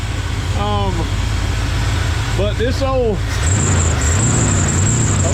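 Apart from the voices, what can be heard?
1988 Ford Bronco engine running, pulley whistling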